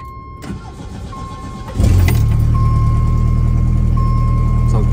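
A car engine driving up the block kicks in loudly after a quieter start, then holds a steady, throaty roar close by.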